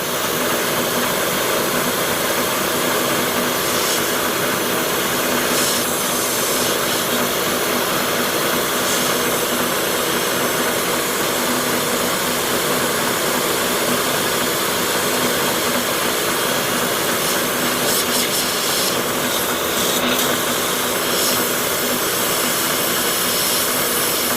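Drill press spotting a hole at about 1,000 RPM in a metal shop, building a gantry crane; a steady, loud motor whine with broadband hiss runs throughout, with faint intermittent clicks near the end.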